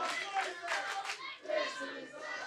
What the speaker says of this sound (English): I've never heard of "This is awesome" chant in the middle of a battle royal.